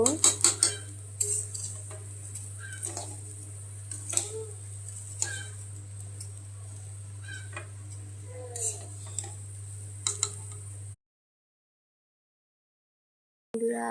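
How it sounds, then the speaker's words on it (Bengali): Polua rice dry-roasting in a pan, stirred with a metal utensil: repeated clinks and scrapes over a steady low hum, close and clear, then a sudden drop to silence near the end. "পলুয়া চাল এই যে ভাইজে নিচ্ছি, দেখেন এই যে গুছায় ভাইজে নেব।"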